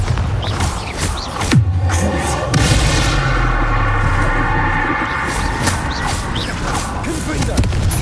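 Bombarda spell blasts and magical combat effects in Hogwarts Legacy played on PS5: a sharp impact followed by rumbling booms and a dense, sustained effects wash, with a spoken spell callout over it.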